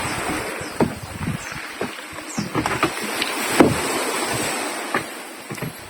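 A boat powered by a 19.5 HP ProQuip engine runs on open water, with a steady wash of spray and wind and occasional knocks and splashes over the hum.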